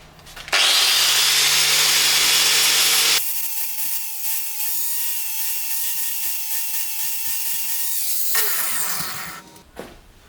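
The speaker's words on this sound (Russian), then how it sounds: "Итак, я аккуратненько болгаркой вывел вот эту плоскость" An angle grinder flattens a surface on a broken BMW G310 motorcycle part, starting with a harsh, loud grinding burst, then settling into a steadier whining spin that runs for several seconds before winding down.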